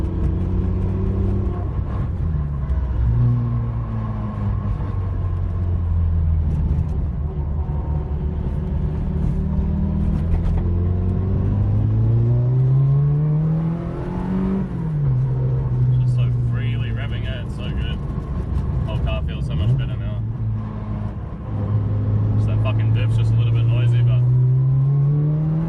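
A Toyota AE86 engine pulls steadily while driving, its loud drone climbing and falling through the revs in repeated smooth sweeps.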